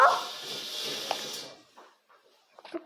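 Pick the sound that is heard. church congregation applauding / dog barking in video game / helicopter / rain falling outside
dog barking in video game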